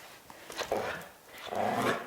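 A dog growls in short, low rumbling bursts while playing tug, two close growls separated by a brief pause.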